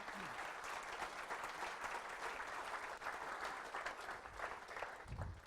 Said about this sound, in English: Let's give Forrest a round of applause.